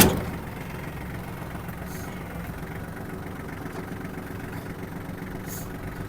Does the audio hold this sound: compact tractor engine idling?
yes